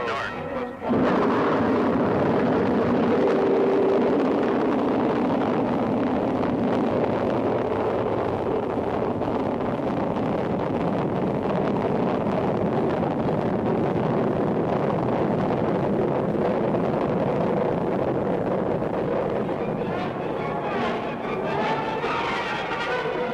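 A NASA rocket lifts off carrying the Telstar satellite in July 1962, a loud, continuous, rumbling roar that starts abruptly and holds steady, heavily buffeted by wind on the microphone.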